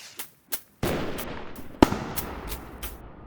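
Firework 4 block in the Roblox game Build a Boat for Treasure launching and bursting: a few quick pops, then a loud, close blast followed by a string of crackling bursts.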